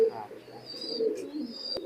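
Imported-bloodline high-flying pigeons coo nearby in soft, low, repeated calls, with a few faint higher chirps and a sharp tap near the end.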